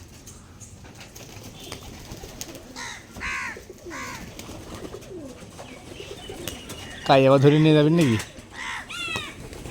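Machranga pigeons coo at a Giribaz pigeon farm, soft repeated coos and calls with one louder close burst, while someone talks over them.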